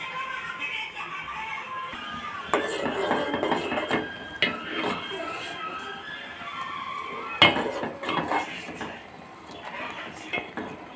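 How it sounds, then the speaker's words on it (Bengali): Maggi noodles stirred in a pot, with intermittent metallic scrapes and clinks of a utensil against the pot over a faint background hiss. "একটু নাড়িয়ে নিই।"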